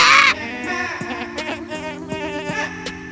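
A goat's bleating plays back through an Alexa smart speaker, starting with a loud cry and trailing into wavering, quavering bleats that rise and fall over a few seconds, with no talk over them.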